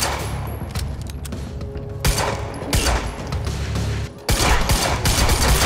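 Loud, rapid bursts of gunfire in the video game Quantum Break, dense volleys with brief gaps and heavy low thumps.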